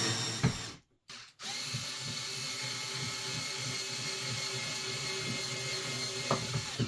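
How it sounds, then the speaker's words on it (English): A power drill drives a screw in a continuous whirring run lasting several seconds after a short stop and restart, close and fairly loud, with no talking. "It should not take that long to get a screw started."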